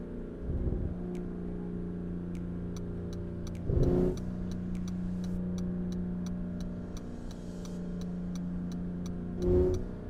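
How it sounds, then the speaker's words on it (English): A car idles in a stalled traffic jam: a steady low engine hum with a regular ticking indicator running throughout and two brief louder engine surges, no voices. "got some traffic jam here"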